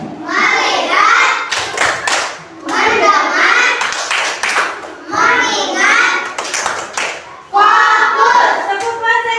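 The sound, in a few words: class of children doing a rhythmic focus clap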